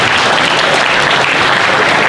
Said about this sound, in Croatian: Evo i oni očekaju aplauz od vas pa ćemo stiti.